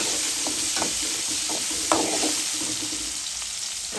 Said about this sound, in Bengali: হালকা ভেজে নিব মাছটা।